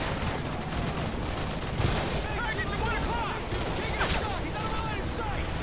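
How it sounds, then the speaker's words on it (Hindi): Explosions and scattered gunfire rumble through a Call of Duty: Modern Warfare battle, a dense continuous din with a few heavier booms, while someone talks over it. "साला बॉम्ब भी ब्लास्ट कर रहे यार"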